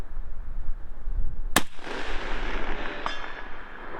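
A single sharp crack from a .308 battle rifle with a 16-inch Ballistic Advantage barrel, fired outdoors at a range, followed by a long rolling echo and a faint distant report a moment later.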